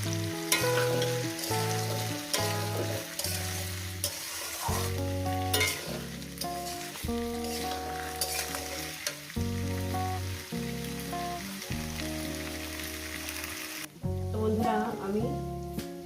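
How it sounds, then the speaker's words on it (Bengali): Chopped onion and taro stolons fry in a pan for a rohu fish curry, a constant crackling sizzle partly buried under loud background music. "পেঁয়াজ কুচুটা দিয়ে আমি চার পাঁচ মিনিট ধরে ভাজবো"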